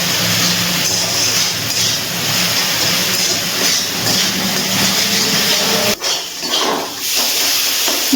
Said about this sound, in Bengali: এবার একটু ভালো করে মশলাগুলোকে মিশিয়ে নিয়ে ভালো করে কষিয়ে নিচ্ছি।